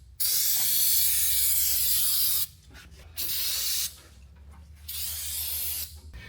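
Lubricant sprayed from an aerosol can while working on a car, three sharp hissing bursts of differing length with brief pauses between, close and loud.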